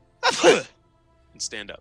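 One abrupt sneeze bursts out close to the microphone during a tabletop Dungeons & Dragons session, then a short pause and a brief spoken phrase.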